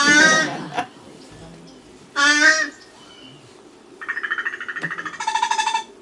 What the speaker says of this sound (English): That's a crow.